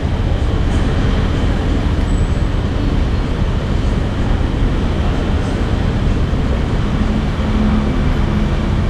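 A KRL Commuter Line electric train on the Tanah Abang to Rangkasbitung route, heard as a loud, steady, close rumble and roar of a moving carriage with no voices.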